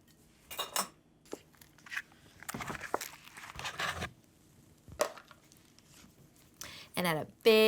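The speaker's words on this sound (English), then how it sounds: "add a big scoop of ice cream onto each latke" A metal scoop scrapes and clinks against a plate while ice cream is added onto hot latkes, close, with scattered taps and knocks.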